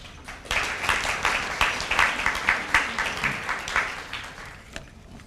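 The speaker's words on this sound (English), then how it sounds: "I always have mixed emotions about the applause that I get on the way to the podium" An audience at a university lunch lecture applauds as a speaker walks to the podium, a sustained round of many hands clapping in pulsing waves that fades near the end, with no talk over it.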